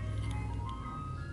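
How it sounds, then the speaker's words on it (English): An ice cream truck passes by, its chiming jingle melody ringing over a low motor rumble at moderate distance, brief and without talk. "The ice cream truck man."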